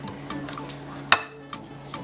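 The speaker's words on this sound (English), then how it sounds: "Now I'm ready to mix this together to start forming my dough" A spoon works thick calamansi crinkle cookie dough in a mixing bowl, giving soft scraping and stirring with scattered light clinks and one sharp clack against the bowl partway through, close up.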